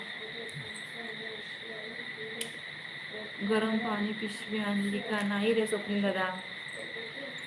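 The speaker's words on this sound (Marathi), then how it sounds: "रात किडे ओरडत आहेत बाहेर आवाज येतोय त्याचा" Night insects, likely crickets, chirp steadily outside in a high continuous trill throughout, faint and distant, while someone talks over it and other voices join in the middle.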